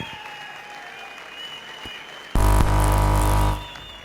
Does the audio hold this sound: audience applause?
yes